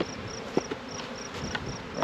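Two honeybee swarms loaded into a resource hive fill the air with a steady, close buzzing hum, with a few brief knocks and taps from the hive equipment.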